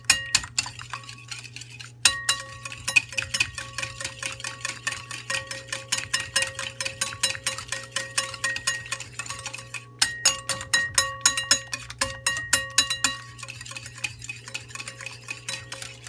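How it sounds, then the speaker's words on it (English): A whisk beats batter with salt and sugar in a bowl, producing fast, rhythmic metallic clicking strokes close up, steady for long runs with brief pauses, over a low constant hum and no talking. "So we're gonna whisk it to let it get melted."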